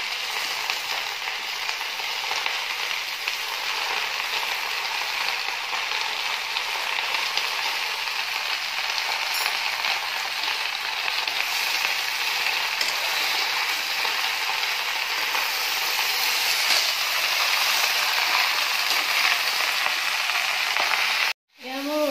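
Lai saag (mustard greens) fry in a pan with only a little salt, a steady close sizzle and crackle that runs evenly throughout and cuts off abruptly near the end.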